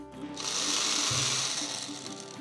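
A mixer grinder whirs up loudly and runs in a steady high-pitched grinding roar as it coarsely grinds green chillies and garlic, its pitch shifting slightly as the contents break down.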